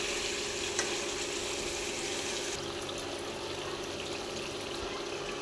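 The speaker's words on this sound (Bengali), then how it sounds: "মাংস কষানো হয়ে এসছে, দেখেন মাংস থেকে তেল বেরিয়েছে।" Meat being sautéed in oil in a pan, a steady, close hiss of frying with one brief clink, continuous and alone without talk.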